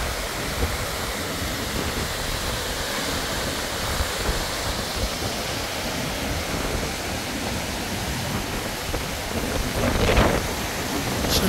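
The Krimml Waterfalls in Austria roar as a steady, loud broadband rush of falling water, unbroken throughout with a slight swell near the end.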